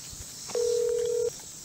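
An iPhone X placing a call: one clear, steady electronic tone lasting under a second, close and alone against quiet room noise.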